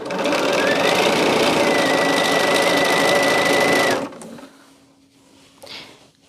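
A sewing machine stitches fabric strips together for a quilt top in a loud, steady whir that runs for about four seconds, then cuts off to a quiet hum and small handling noises.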